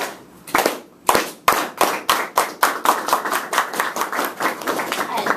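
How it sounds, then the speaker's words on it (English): A group performs a unity clap: sharp, separate hand claps start slow with wide gaps, then come faster and closer together into a quick, even rhythm, loud and near. "it's kind of like a slow clap where you start off slow, and then you go faster, and then you go faster, and that's called a unity clap"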